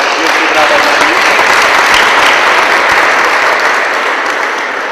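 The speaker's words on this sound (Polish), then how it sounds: "wielkie brawa na nich" Loud, dense applause from a crowd at a youth indoor football tournament final, sustained and even throughout, with some voices mixed into the clapping.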